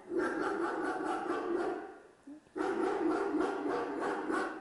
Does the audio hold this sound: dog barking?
yes